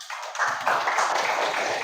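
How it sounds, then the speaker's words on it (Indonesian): A fifth-grade class claps for a group of classmates, a sudden burst of many hands forming a dense, even patter close by. "Tepuk tangan untuk kelompok 3."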